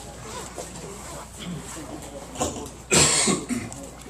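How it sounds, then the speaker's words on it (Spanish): A single sharp cough bursts out near the microphone during a church sermon, short and broadband, with faint room noise and a quiet voice around it. "disculpen la tos"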